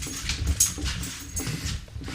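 A dog whimpers and sniffs near a fence and pantry of an old fixer-upper house in Marysville, Ontario, with soft high whines over breathy snuffling and panting, close and continuous for a couple of seconds.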